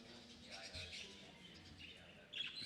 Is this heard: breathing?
no